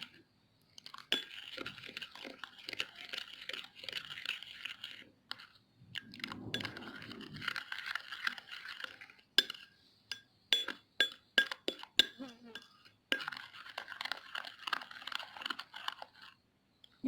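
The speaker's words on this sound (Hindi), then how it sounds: "अच्छा सा मिक्स कर लेना है" A spoon clinks and scrapes against a bowl while stirring a homemade face polish of milk and glycerin, close-up irregular taps and wet scraping in bursts with short pauses.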